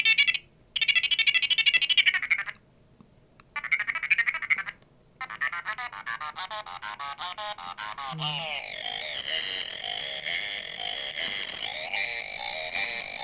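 Circuit-bent Sing-a-ma-jig toy emits warbling electronic tones with a ringtone-like quality, first in choppy bursts separated by silences, then a sustained gliding synthetic whine, close and moderately loud.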